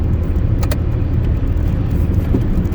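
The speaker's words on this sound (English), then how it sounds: "A lot of cars here." Cars in heavy nighttime traffic roll past as a steady, loud road rumble and tire noise from inside a moving vehicle, continuous with no talk.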